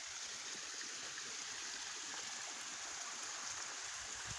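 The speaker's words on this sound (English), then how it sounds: "We have water in the waterfall again." Steady rushing of a waterfall, a continuous broadband wash of flowing water with no voices.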